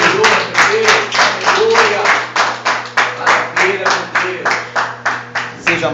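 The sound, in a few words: congregation applauding in church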